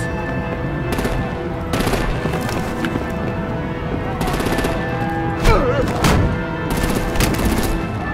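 Artillery and gunfire in an animated Batman episode: continuous dense battle noise with repeated bursts of rapid fire and a few louder impacts, all at high volume.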